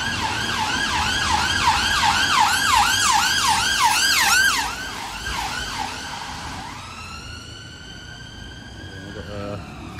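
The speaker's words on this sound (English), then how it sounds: "Here's some sirens coming." A loud wailing ambulance siren in Hammersmith, London sweeps up and down rapidly, then shifts to a long steady tone as traffic rumbles underneath.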